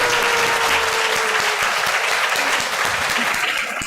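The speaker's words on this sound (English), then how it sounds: "give them big applause" Sustained, dense applause from a large audience at a temple's 20th anniversary Sunday service, greeting children standing up. It is loud and steady throughout and eases off slightly near the end.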